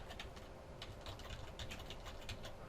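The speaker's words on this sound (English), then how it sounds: "let's just type it here" Quick, light tapping on a computer keyboard while entering an Excel formula, an irregular patter of soft clicks heard close up and fairly quietly, with no talking.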